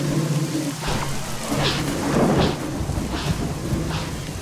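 Steady rain pours down while thunder rumbles and cracks several times, a continuous stormy wash with no voices, from the video game ORION: Prelude.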